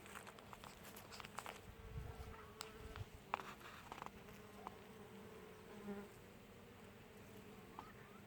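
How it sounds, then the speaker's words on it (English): Bees buzzing among purple asters along a front fence line on a fall day, a soft steady drone near and far with occasional closer passes, faint under light wind and no talk. "can you hear the bees?"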